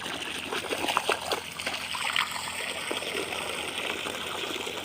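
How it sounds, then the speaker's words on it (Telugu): Water runs and trickles steadily while plants in a chilli farm field are irrigated on a misty morning, a soft continuous splashing flow heard close by with no talk. "చూడండి, ఇలా నీళ్లు పెడుతూ ఉన్నాను."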